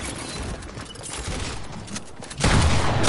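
Gunfire in the video game Fortnite, a loud burst of shots with a heavier volley hitting near the end, crisp and close.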